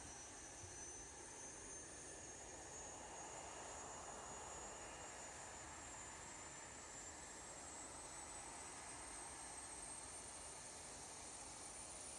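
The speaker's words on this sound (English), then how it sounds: "Listen to the APU start." An MD-11F auxiliary power unit spins up in a flight simulator, a quiet steady turbine whine with a rising high tone over a low rumble.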